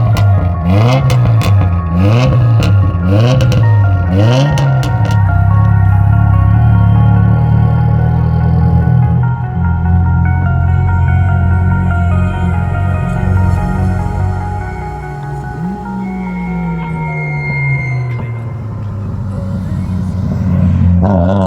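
A Mitsubishi Lancer Evo 5 pulls away on the road, its engine revving hard through several rising and falling sweeps before settling into a steady drone, then climbing again, heard loud from inside the car with no talk.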